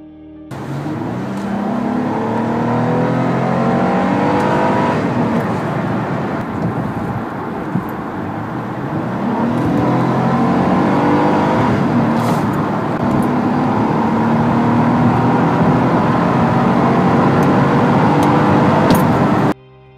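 A 2013 Acura TL's 3.5-liter V6 runs steadily for about twenty seconds, a loud, continuous engine drone with rising and falling tones, as if revving or driving, with no talk over it.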